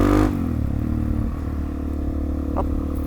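A Suzuki DR-Z motorcycle rides up through a village, its engine a steady, close rumble with a brief louder burst at the start and light clatter throughout.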